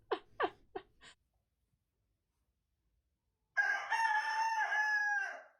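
A video game rooster gives one loud, drawn-out crow standing alone after a brief pause, following a few short, breathy calls.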